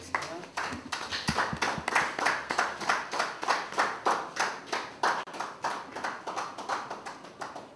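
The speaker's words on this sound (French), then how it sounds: "On peut applaudir." Church congregation clapping after a pastor's sermon, a rhythmic unison clap at a steady beat, moderately quiet and sustained.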